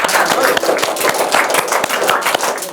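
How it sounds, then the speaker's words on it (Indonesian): Classroom applause after a student group presentation, a dense burst of many hands clapping steadily throughout, fairly loud and close with no talk over it. "Beri tepuk tangan."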